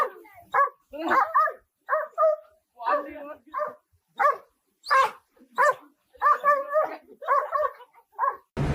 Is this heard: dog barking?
yes